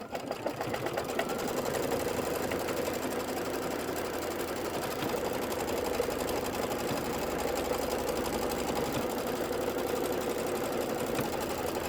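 An embroidery sewing machine stitches the outline of a double pinwheel quilt block in a hoop, a steady close rapid mechanical whirring and needle chatter running continuously without speech.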